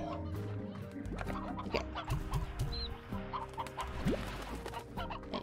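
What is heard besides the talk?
elder rooster clucking in video game Slime Rancher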